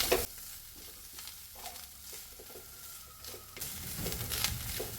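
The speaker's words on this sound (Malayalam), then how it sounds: "ഇതിലേക്ക് കുറച്ച് നാളികേരം ഇടുന്നുണ്ട്" Grated coconut, about four tablespoons, tossed into a hot pan while cooking with ripe plantain, sizzling softly as a spatula stirs and scrapes in irregular strokes, growing louder near the end.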